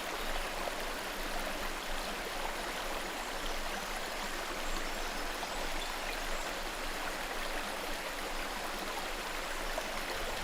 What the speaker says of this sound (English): Rainwater cascades from the Ghats.